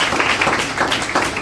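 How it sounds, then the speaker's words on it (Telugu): Congregation at a church gathering in Bhadrachalam applauding loudly once more, a thick continuous rattle of many clapping hands, close and sustained throughout. "మరొకసారి గట్టిగా చప్పట్లు కొడుతూ"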